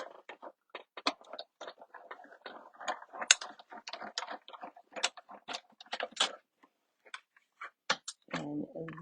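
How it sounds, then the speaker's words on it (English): A paper-crafting die cut machine cranks card stock through with a series of close, uneven clicks and gear ticks, ending in a brief rumbling whir as the plates emerge. "Run that through the die cut machine."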